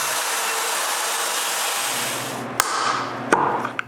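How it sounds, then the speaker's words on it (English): Router fitted with a template guide cutting the exterior of a maple bowl, a loud continuous high whine and roar that drops away partway through, followed by a few sharp knocks as the tool settles. "I use a router with a template guide to cut part of the exterior of the bowl"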